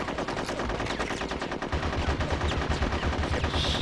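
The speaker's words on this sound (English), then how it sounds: "Shooting each other pointlessly" Rapid video-game gunfire from Conker's Bad Fur Day, dense bursts of shots rattling continuously and loudly through the whole stretch in a multiplayer-style firefight.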